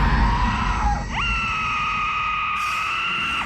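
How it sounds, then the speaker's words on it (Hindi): A woman's drawn-out scream of pain in a horror story scene, a loud sustained cry that breaks briefly and then holds steady at high pitch, with a dark rumbling ambience beneath. "हॉली वाटर गिरते ही वो दर्द से चीखने लगी।"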